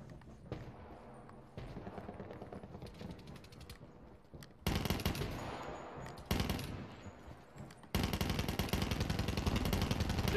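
Gunfire in Black Ops 4 on the Alcatraz map: bursts of rapid automatic shots that start faint and grow louder in sharp-edged volleys, with mechanical clatter between them.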